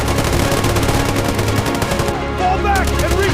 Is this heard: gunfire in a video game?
yes